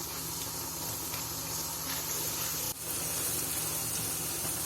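Onion-tomato spice masala for dhaba-style palak dal sizzles and hisses as it roasts in a pan over a medium flame, a steady close frying sound with one brief dip.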